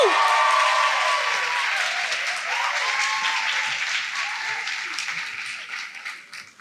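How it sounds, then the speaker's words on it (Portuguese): Audience applause welcoming two guests onto a stage at a live talk-show event, a dense steady wash of clapping that starts loud and slowly thins out, with a few faint cheers and voices mixed in. "vamos receber com uma salva de palmas Vitor Fontana e Iago Martins"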